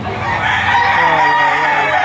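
At a crowded market with sellers and buyers, an 11-month-old rooster lets out a drawn-out crow that fills the short stretch over a constant background murmur.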